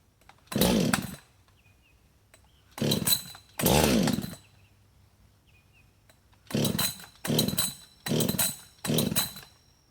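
A hot Husqvarna 562XP chainsaw with a starting problem revs hard in seven short, loud, buzzing bursts close by. Near-silent gaps of low idle fall between them.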